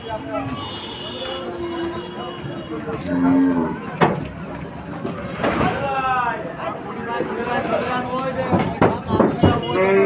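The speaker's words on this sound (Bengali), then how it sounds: "মাঠের ভিতরে অনেক গরু দেখা যাচ্ছে" Cattle moo loudly and repeatedly at a busy outdoor cattle market in Keshabpur, Jessore, under constant crowd chatter and nearby voices.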